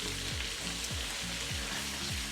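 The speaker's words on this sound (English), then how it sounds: "So the meat is browning nicely." Italian sausage meat browns in a hot pan with a dense, steady sizzle and frying crackle, close up and constant, while a utensil scrapes or stirs in a few regular low strokes.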